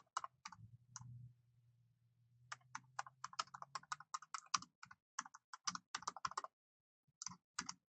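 Fingers tap out a post on a computer keyboard in irregular bursts of crisp, close clicks, with a low hum fading out at the start and no speech.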